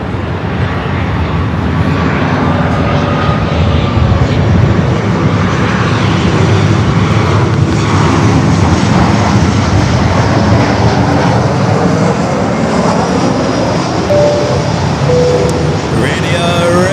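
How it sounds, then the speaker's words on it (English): Air Force One waiting on the west side of LAX, with a steady broad jet-engine roar running throughout, loud and continuous, while a voice talks over it. "That is the Air Force One over there on the west side of the airport."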